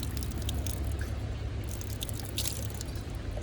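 Water runs from a public fountain in Lauterbrunnen, Switzerland, a steady close splashing and dripping trickle with small squishy spatters and no voices.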